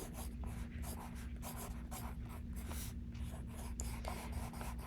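Pencil writing in a sketchbook, a continuous close scratching and rubbing of graphite on paper in short strokes, steady and unaccompanied by speech.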